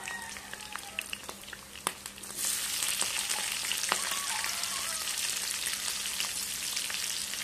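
Very fatty meat sautés in oil, quiet clinks and scrapes at first, then a sudden steady hiss of frying that stays even and close for the rest, with no talking.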